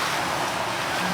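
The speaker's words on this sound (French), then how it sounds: "ce vent-là," Wind blows steadily across the microphone outdoors, a constant rushing hiss with no voices.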